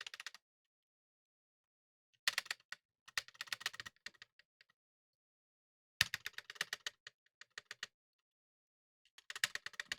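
A mechanical keyboard fitted with an artisan keycap clacks under quick typing in three or four separate bursts, crisp close keystrokes separated by stretches of near silence.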